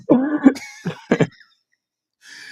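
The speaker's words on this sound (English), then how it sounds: "I have a cough" Several rough, close coughs and throat clearings in a quick cluster, then a brief faint hiss after a pause.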